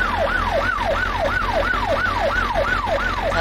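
A police car's wailing siren in the video game My Summer Car repeats in fast, regular rising and falling sweeps, loud and steady over a low engine drone.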